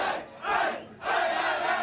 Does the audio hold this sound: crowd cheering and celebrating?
yes